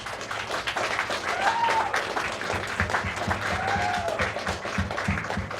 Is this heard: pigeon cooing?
no